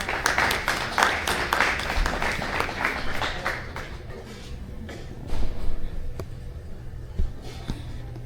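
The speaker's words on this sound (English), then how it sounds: "Please give her a big round of applause." An audience gives a speaker at a Bhagavad Gita talk a round of applause, dense clapping for the first few seconds that thins out into scattered claps and room noise.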